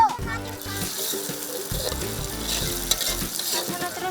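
Chopped octopus sizzles as it is stir-fried with ground spice paste in a hot pan, with a steady crackling hiss and repeated scraping strokes of the stirring utensil, close and continuous, with background music playing.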